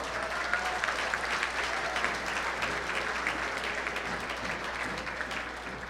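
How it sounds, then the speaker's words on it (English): Steady applause from a banquet audience at a sports hall of fame induction, even and continuous for several seconds. "one more round of applause for the toppers"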